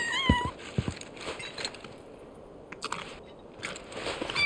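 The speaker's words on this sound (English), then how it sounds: "Let's try giving her the cat food." A cat in Final Fantasy VII Rebirth eats cat food: a couple of short meows open, then soft, close crunching bites and chewing clicks come in small clusters, fairly quiet, with no one talking.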